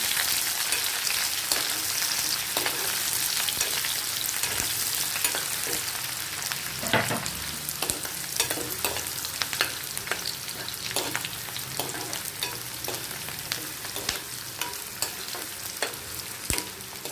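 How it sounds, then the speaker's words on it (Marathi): Chopped onion sautéing in a pan for a raw banana sabzi, a steady close sizzle with frequent scraping stir clicks running throughout, no voices. "आता आपण कांदा कट केलेला कांदा टाकून घेऊया. छान परतवून घेऊया."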